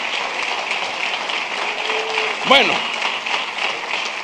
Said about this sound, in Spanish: Denle ese aplauso al Rey bendito